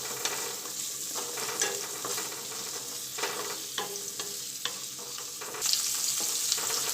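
Large slices of a medium onion sautéing in a pan for a cashew-garlic curry: a continuous bright sizzle with scattered scrapes of stirring, close and moderately loud, with a brief louder burst near the end and no talking.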